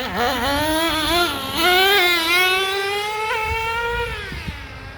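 A Traxxas T-Maxx nitro RC truck engine screams across a parking lot, rising and falling in pitch as it revs and shifts, loud and close then easing as it passes.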